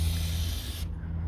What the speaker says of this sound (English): Right, then I got penetrating specialist WD-40.